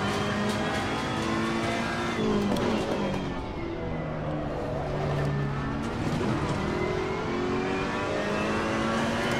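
Race car engines in the Assetto Corsa Competizione racing game roar and rev continuously, pitch rising and falling through gear changes as another car closes in, loud with no talk.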